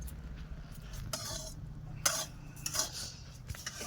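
A spoon scrapes and clinks softly against a pot in irregular strokes as thick boiling date palm jaggery is stirred over a clay stove, with a low background hum.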